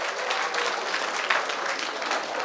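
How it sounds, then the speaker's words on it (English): A college auditorium crowd applauding, steady thick clapping at moderate volume for a couple of seconds with no pauses and no voices over it. "Give them a big round of applause"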